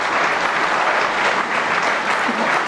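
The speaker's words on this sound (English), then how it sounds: "He's clapping on the other game." Spectators in the arena at the 2017 World Snooker Championship clap for the match at another table, a sustained, fairly loud wash of applause with no gaps.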